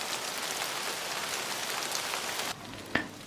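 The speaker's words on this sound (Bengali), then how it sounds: "বাইরে প্রচণ্ড বৃষ্টি হচ্ছিল।" Heavy rain pours outside a small Dhaka flat as a dense, even hiss of drops. The hiss drops slightly in level near the end, and a single sharp tap follows soon after.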